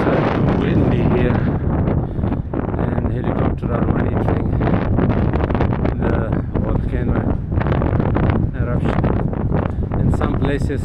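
Strong gusts buffet a microphone near an Icelandic volcano, a constant loud low roar and rumble filling the whole span, with speech faintly present beneath the wind.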